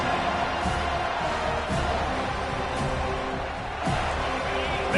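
A stadium crowd roars steadily in a College Football 25 video game, a broad, continuous cheer with swells and scattered shouts.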